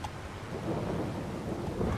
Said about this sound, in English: I'm hoping the rain will stop soon